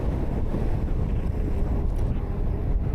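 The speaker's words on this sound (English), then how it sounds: "the wind grew, but it's cold" Strong cold wind blowing across a mountain village in Algeria's Tell Atlas, a loud continuous rumbling roar buffeting the microphone for the whole stretch, with no other sounds.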